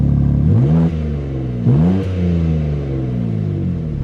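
A BMW G87 M2 with its stock exhaust revs up twice in quick succession, each blip a loud, rising engine roar that settles back into a rumbling idle, heard close with no talking.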